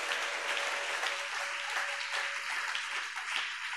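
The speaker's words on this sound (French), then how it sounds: "Acclame pour le Seigneur Jésus." A church congregation applauding for the Lord Jesus, dense continuous clapping from many hands, steady and sustained in a large room.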